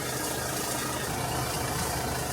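A car engine idles steadily after its key has been handed over during a debt-collection vehicle seizure, a constant low rumble with no talk over it.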